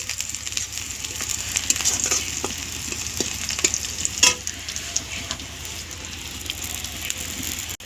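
Onion, garlic and chili frying in hot oil for lunch, a steady close sizzle with occasional stirring scrapes and a sharp clatter midway, no voices.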